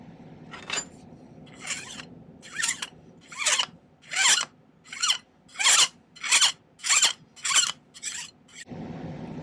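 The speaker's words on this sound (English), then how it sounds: "I see that I have to file it a little bit more" A metal file works a silver bracelet piece with a series of about a dozen rasping strokes, close and steady, growing louder and more even toward the end.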